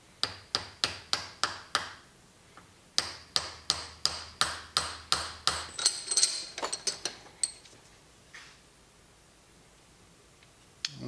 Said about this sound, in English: And again with the brass rod and hammer.